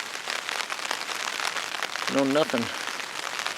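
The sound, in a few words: rain falling outdoors in the Alaska wilderness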